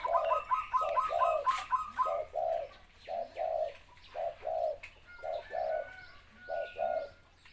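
A Thai Liu Tan dove cooing, a regular series of soft, rounded coos repeated in steady rhythm, clear and fairly near, with a few faint chirps at the start.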